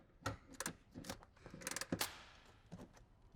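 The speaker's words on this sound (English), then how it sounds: "I'm going to go ahead and loosen these bolts with a ratchet." Ratchet wrench loosening bolts on a first-generation Ford Raptor truck, with several short bursts of rapid clicking separated by brief pauses, close and fairly loud.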